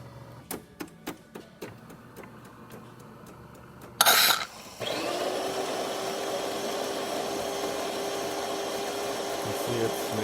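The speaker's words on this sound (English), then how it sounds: "Today we're testing this DeLonghi Perfecta espresso machine." A DeLonghi Perfecta espresso machine, just fitted with a new solenoid valve and tuned up, runs a test shot: a few sharp clicks, a brief loud hiss, then a steady pump drone with a tonal whine underneath.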